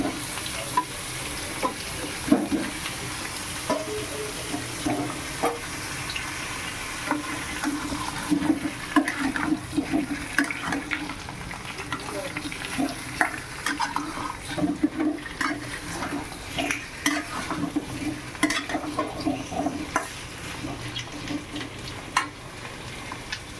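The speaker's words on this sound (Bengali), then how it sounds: "আমি আলুটা ভেজে নিচ্ছি। পেঁয়াজ বেরেস্তা হয়ে গিয়েছে, তারপরে আলুটা ভেজে নিচ্ছি হালকা করে।" Potatoes being lightly fried and stirred in oil in a pan while making mutton biryani, a steady close sizzle with repeated scraping stir strokes throughout, no talking.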